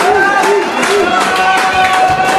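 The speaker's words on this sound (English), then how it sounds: "Crowd now getting behind the Puerto Rican princess to get her going." A wrestling crowd at an indoor match cheers and claps for the Puerto Rican princess, a loud continuous mass of voices, with whistles and short shouts rising above the roar.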